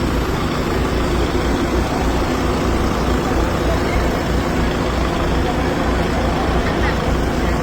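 A vehicle pulls up at a welcome ceremony for rescue teams in Xaisomboun, Laos, its engine a steady low rumble that fills the scene, with people talking over it.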